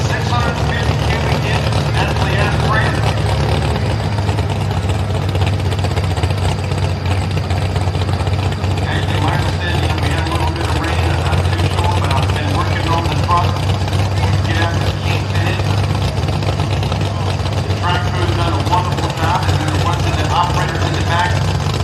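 An early-1940s Ford with a 650 cubic inch naturally aspirated engine idles at a drag racing event, a steady low rumble running the whole time under crowd and announcer noise.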